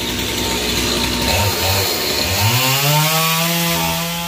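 A chainsaw cuts through the trunk of a tall royal palm, its engine loud and close, revving and bogging down steadily as the blade bites into the wood.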